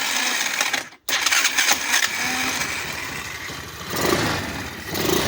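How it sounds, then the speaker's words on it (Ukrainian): A worn 125cc quad bike engine runs at a steady, buzzy idle, cutting out for a moment near the start before picking back up and revving slightly. "Давайте запустимо, щоб ви бачили, що двигун дійсно не першої свіжості."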